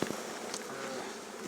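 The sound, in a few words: honeybees buzzing in an open hive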